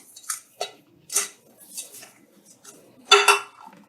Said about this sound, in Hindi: इसमें तेल डालकर इसे अच्छी तरह से चारों तरफ इसमें तेल लगा दें।